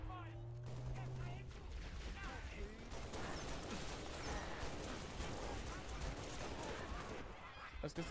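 Dense, continuous gunfire from the video game Halo 3: ODST keeps up rapid overlapping shots and blasts at high level throughout, with a voice talking now and then beneath it.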